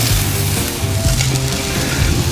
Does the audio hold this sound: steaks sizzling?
yes